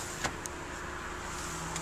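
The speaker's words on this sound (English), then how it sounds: "And of course, your sunroof controls." A car's power sunroof motor runs in a quiet cabin, a faint steady electric whir with a few small clicks near the start and end.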